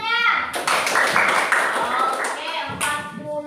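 Schoolchildren clap together in a classroom, a burst of quick close handclaps running for a few seconds, with a voice speaking over the start and end.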